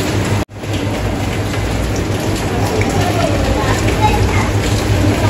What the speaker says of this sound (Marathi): इकडे आपण आता चिल्लीचे पीस टाकणार आहे. चिल्लीचे पीस आपण हा फ्राय करून घेणार आहे आता इकडे.